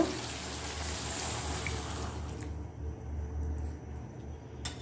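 Water pours into a cooking pan over sautéed bean seeds and quail eggs, a brief soft rush and trickle that quickly fades as the hot pan quiets.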